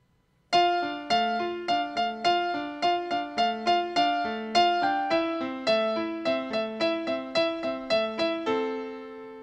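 Piano playing a pop song with both hands together: steady, evenly paced repeated chords over a moving bass line, close and clear, fading out on a final sustained chord. No one speaks.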